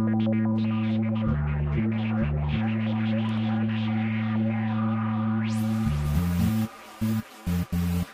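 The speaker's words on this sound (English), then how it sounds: "Our bass sounds are getting through totally clean" A loud, clean synth bass playing sustained low notes that shift in pitch, dry with no echo, then short stabbed notes with gaps near the end.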